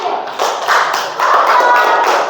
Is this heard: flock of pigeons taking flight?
no